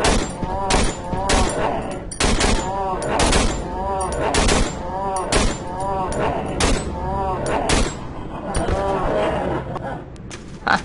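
Assault rifle gunfire in the horror video game Cry of Fear: repeated sharp shots at a steady pace, heard under a person talking almost the whole time.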